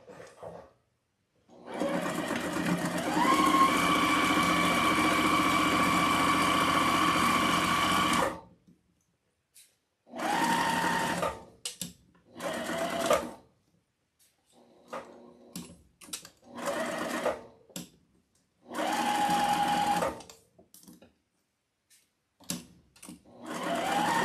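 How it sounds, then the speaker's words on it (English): A sewing machine runs a basic straight stitch while sewing an Easter bunny wreath attachment with a top hat. One long steady whirring run is followed by several shorter bursts separated by pauses, close and loud, with no talking. "Do these first, basic straight stitch."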